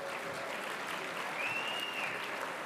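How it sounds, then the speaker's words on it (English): A crowd claps steadily in warm, sustained applause for graduates at a business school convocation, fairly distant and even throughout, with no voices standing out. "Big round of applause."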